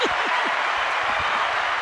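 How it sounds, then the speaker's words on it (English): A crowd at an interview show applauds in a steady, even roar of many hands clapping, with a brief voice rising over it at the very start. "Let's need some round of applause."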